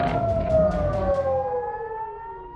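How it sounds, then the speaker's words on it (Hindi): Civil defense air raid alert sirens sounding in Israel during an Iranian missile attack, a loud steady wail whose pitch slowly falls as it fades, heard alone without voices. "ईरानी हमले से पूरे इसराइल में अलर्ट सायरन की गूंज और मिसाइलों की आवाज सुनाई दी गई"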